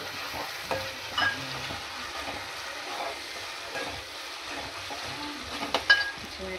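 Curry leaves and green chillies frying in hot oil for a Telangana fish curry, a continuous close sizzle and crackle with occasional stirring scrapes and a few louder clinks near the end.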